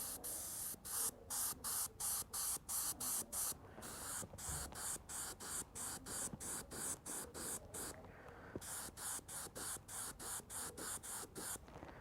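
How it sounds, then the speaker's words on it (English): A double action airbrush spraying paint onto a scale model gives a soft, close hiss in rapid regular bursts, short pulses repeating steadily with brief gaps and one longer pause midway, and no talking. "So you can see how versatile the double action airbrush is."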